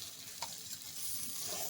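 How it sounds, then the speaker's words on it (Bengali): Paneer stirred into frying spice paste gives a soft, steady sizzle with light scraping, quiet and close. "এবার পনিরটা আমি মশলার সঙ্গে মিশিয়ে নেব"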